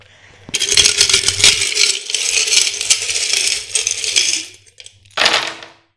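Small metal charms spill and clatter onto a surface for a reading, a dense rattling cascade lasting several seconds, then a brief pause and a second short burst of jingling.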